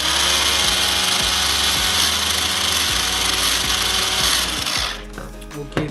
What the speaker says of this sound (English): I close it and I blend again. Sorry for the noise now.